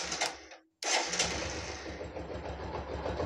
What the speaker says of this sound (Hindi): बाइक को स्टार्ट करते हैं एक सेल में बाइक स्टार्ट हो रहा है